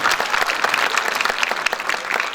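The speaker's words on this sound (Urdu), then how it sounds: "زوردار تالیاں بجنی چاہیے" Loud, dense audience applause fills a hall at an educational institution's event, sustained and steady from start to finish with no voices over it.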